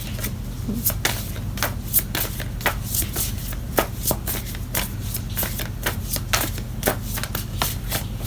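Tarot cards are shuffled rapidly by hand, giving a long run of crisp, riffling flicks and taps in quick irregular rhythm, close and clear.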